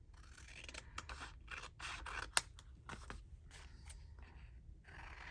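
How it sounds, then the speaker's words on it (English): Scissors snip and scrape through paper edges during a playing-card craft, a run of close, quiet cuts with one sharper snap midway, no voices. "I usually trim them off so they're straight"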